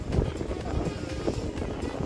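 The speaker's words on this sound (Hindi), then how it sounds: "पर तेज हवा चल रही है।" Strong wind buffets the microphone at a hillside temple, a steady loud low rumble with gusty swells throughout and no other clear sounds.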